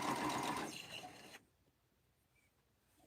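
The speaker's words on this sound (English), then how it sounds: "And then I sew in 3/8 of an inch." A sewing machine runs steadily while stitching a 3/8-inch seam on 2 1/4-inch quilt binding, then stops abruptly about halfway through and leaves near silence.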